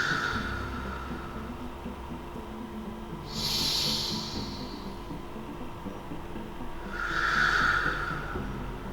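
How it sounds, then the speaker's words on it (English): Two slow, deep breaths, each drawn in through the nose and let out through the mouth, give soft airy hisses over a low room hum. "we're focusing on our breath in through the nose and out through the mouth"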